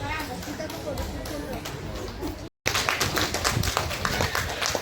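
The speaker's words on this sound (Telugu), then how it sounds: "చాలా తక్కువగా వినిపిస్తున్నాయి చప్పట్లు" Audience clapping at a stage function, a steady patter of many hands under crowd noise, continuing after a brief dropout midway.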